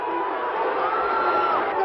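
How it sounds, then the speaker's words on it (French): Dense, steady roar of an agitated crowd jeering the organisers after a false start at the Fermo palio horse race, loud and continuous without a break. "Faux départ, la foule s'énerve et conspue les organisateurs"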